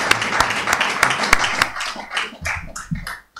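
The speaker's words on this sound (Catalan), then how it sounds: "Un aplaudiment." Clapping from a small audience at a book presentation, a handful of sharp distinct claps in quick rhythm that thin out and fade while voices start up near the end.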